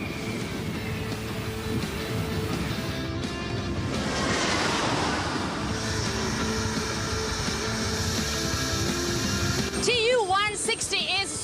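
A Russian Tu-160 supersonic strategic bomber landing in Venezuela, heard as a loud, sustained jet roar with rushing wind-like noise that swells midway and continues throughout, with faint voices in the background.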